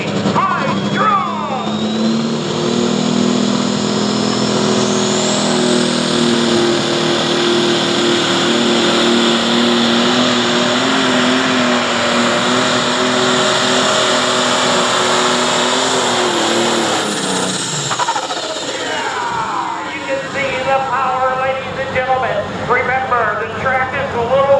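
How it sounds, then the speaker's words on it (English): A John Deere 7520 pro stock tractor pulling a heavy sled on a wet track at a truck and tractor pull. The engine makes a loud, sustained roar with a steady high whine for about eighteen seconds, then cuts off to quieter crowd and background noise. "Riverside Engine Pro Stock, Jeremy Smith, John Deere 7520"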